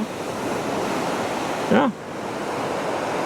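Ocean surf rolls onto the beach at Inverloch as a steady, broad wash of breaking waves. A brief voice cuts in partway through.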